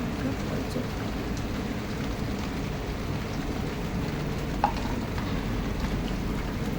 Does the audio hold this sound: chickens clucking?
no